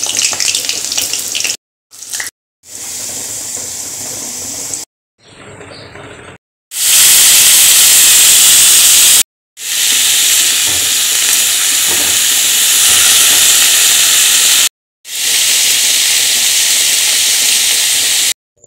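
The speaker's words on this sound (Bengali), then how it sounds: "আমি বাঁধাকপির তরকারিটা সবসময় ভাজাই করি হালকা তেলের উপর" Cabbage curry frying in a little oil in a pan, a loud steady hiss in several long bursts broken by short pauses, with no voices.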